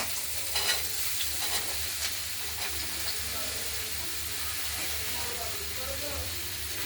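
Thin slices of bottle gourd are stirred into fried spices in a pan, a steady hissing sizzle with a few scraping stirs early on, no talking over it.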